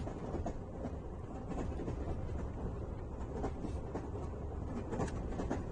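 Train carriage rolling along tracks in France in the 1990s, a steady dense rumble with faint clickety-clack rhythm heard from inside, moderately quiet and continuous, with no voices.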